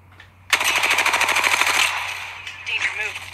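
Rapid automatic gunfire in the Apex Legends video game erupts as a loud, close burst of evenly spaced shots that lasts over a second, followed by trailing game effects.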